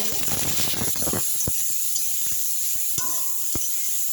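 Eggplant pieces frying in hot oil in a pan, a steady close sizzle and hiss throughout, with a burst of crackling spatter early on and occasional light clicks of a utensil.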